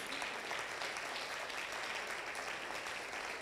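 A church congregation bursts into loud, steady applause of celebration, dense clapping sustained without a break throughout.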